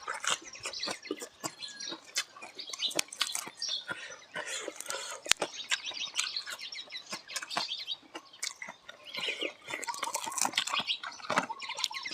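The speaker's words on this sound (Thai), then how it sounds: "ฝนลงเม็ดแล้วครับ" The first scattered raindrops patter and tick irregularly on a surface outdoors, light and close, with birds chirping faintly in the background.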